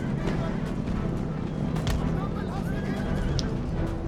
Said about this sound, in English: Regiment of horse.